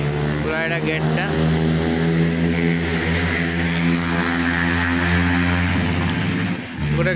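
A loud engine drones close by as a motorbike passes at a busy park entrance, its pitch shifting near the end, with a voice speaking over the rumble.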